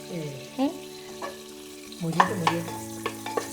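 Masala being stirred as it fries in a pressure cooker, a soft sizzle under scraping ladle strokes and a few clinks against the metal, with a sustained hum beneath.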